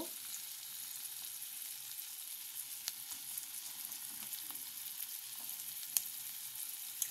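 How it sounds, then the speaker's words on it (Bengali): Chopped onion frying in melted butter in a wok over low heat, a steady close sizzle with soft crackles and occasional sharp pops, heard alone. "পেঁয়াজটা মোটামুটি ভাজা হয়ে গেছে"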